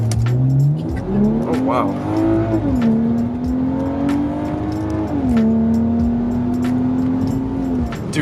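A BMW 335i with the N55 engine, full bolt-on upgrades and an M-Sport kit accelerates hard from inside the cabin, engine pitch climbing through gear changes with brief tire squeal, while passengers react over the roar.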